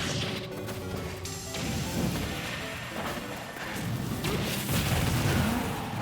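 A Super Smash Bros tournament match from a college esports event, with dense crashing impacts and booming explosion effects layered over continuous game sound and music, loud and busy throughout.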